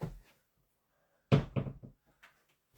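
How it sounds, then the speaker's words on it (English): Closet doors creak and knock open in a quiet room, a soft thump followed by a short cluster of louder wooden rattles and bumps, with faint sounds trailing after. "Closet doors were opening and it was bothering me."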